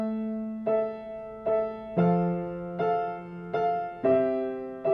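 Solo piano plays the opening of a song in a beginner lesson, six evenly spaced chords with a sustained melody line, clear and close with no voice.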